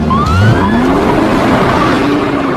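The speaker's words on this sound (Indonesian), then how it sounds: "Mereka pun segera bergegas membawa Zack menggunakan mobil ambulan." Ambulance in a film driving along a road, a steady engine and road rumble with faint rising tonal whines above, continuous and fairly loud throughout.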